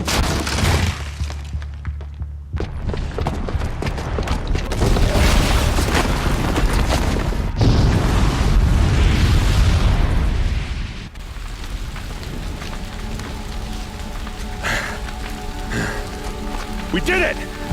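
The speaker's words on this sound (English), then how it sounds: "the booby trap on the bomb downstairs is gonna get set off" A booby-trapped bomb detonates in Horizon Zero Dawn, setting off a loud, sustained roar of blast and crumbling debris that rumbles on for several seconds before thinning into a lower, steadier wash with faint voices.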